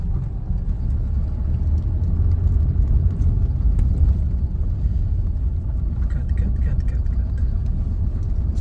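A car crawls slowly along a badly potholed stretch of road near the Mumbai–Goa highway, its low engine rumble steady and close throughout, with faint bumps and rattles over the rough surface.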